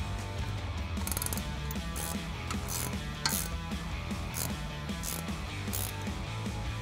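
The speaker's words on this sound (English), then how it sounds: "Go ahead and take a 19/16 inch wrench and tighten that down." A 19/16 inch wrench tightens the top nut on a Rough Country shock of a 1997-2006 Jeep Wrangler TJ, giving a run of quick ratcheting clicks in bursts, close and without talk.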